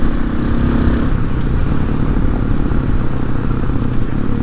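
A Hawk 250 motorcycle fitted with a Loncin RE250 engine pulls hard in sixth gear, its engine droning loud and steady with wind rush and clatter close by.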